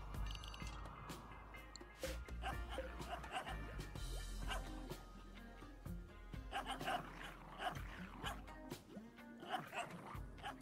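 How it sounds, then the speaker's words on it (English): Several dogs yap and whimper in the colony-management video game Rimworld, a steady run of small, repeated barks layered over dense in-game ambience and music throughout. "those yapping dogs were in your game for a minute"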